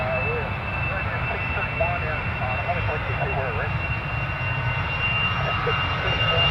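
A jet airliner at London Stansted Airport roars steadily overhead, its engine noise a continuous broad rumble with a thin high whine, while faint voices murmur beneath it.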